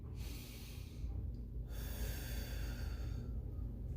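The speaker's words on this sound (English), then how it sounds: "On the count of 3, we are going to take our deep breath." A slow, deep breath drawn in and let out, close and audible, followed by a further long exhale, no voices over it.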